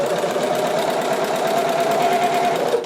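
A sewing machine stitches the neckband of a Tilly and the Buttons Joni dress, a fast, even mechanical hum with rapid needle chatter, close and steady for a few seconds before slowing to a stop.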